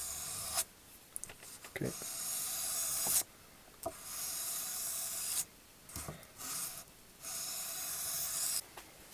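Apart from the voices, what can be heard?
sharpening a knife on a 600 grit stone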